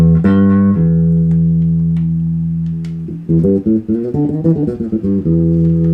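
An electric bass plays alone, a long low sustained note ringing out before a run of quicker plucked notes.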